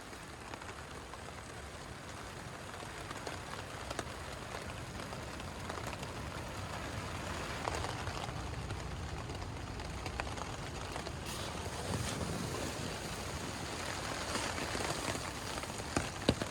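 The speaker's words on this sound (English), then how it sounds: "It's absolutely bucketing down with rain." Heavy rain falls on a tent in a steady, dense patter with occasional louder drops, heard from inside, constant and moderately quiet throughout.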